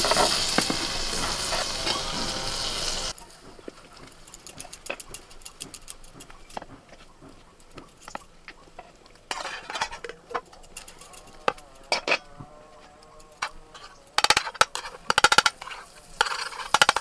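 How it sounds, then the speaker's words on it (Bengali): Breakfast pieces fry in a pan over a wood-fired stove, with a loud hiss at first, then quieter sizzling broken by scattered clicks and taps of utensils. "একটা ভাজা হলো, আবার একটা ভেজে নিচ্ছি"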